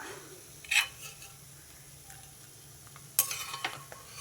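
Fried dried prawns are scooped from a kadai into a bowl, two bursts of metal spoon scraping and clinking against the pan over a faint background sizzle, with quiet gaps between.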